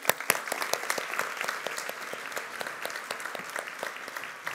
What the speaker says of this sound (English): Can we have a big applause for Nick Clegg?